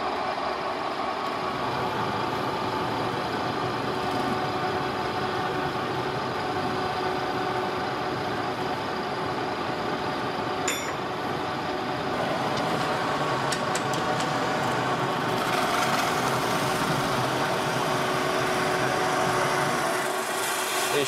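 A metal spinning machine runs steadily at full speed while a zinc sheet disc is centred on it in a workshop, giving a continuous, loud mechanical hum and whir with faint scraping and a brief metallic tick partway through.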